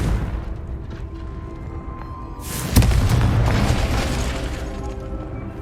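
Confringo spell explosion from a Harry Potter video game: a sudden loud blast that bursts in mid-clip and rolls off into a sustained rumbling roar, over steady background game ambience.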